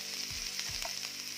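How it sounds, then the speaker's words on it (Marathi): Onions fry in a pan as they turn colour, a faint steady sizzle broken by a few soft stirring knocks and scrapes, close up with no talking. "कांदा छान रंग बदलेपर्यंत भाजून घेऊया."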